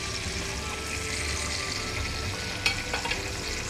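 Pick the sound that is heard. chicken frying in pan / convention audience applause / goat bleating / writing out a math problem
chicken frying in pan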